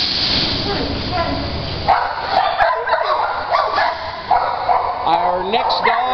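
A shepherd mix dog yips and barks several times over a few seconds, close and loud, with a whimpering, rising tone and other voices mixed in after a rough, noisy start.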